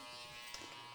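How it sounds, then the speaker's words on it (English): Electric hair trimmer humming steadily while detailing a haircut, a close, even motor buzz with a brief bump as it touches hair. "then I'll do a little detail kind of with the trimmer"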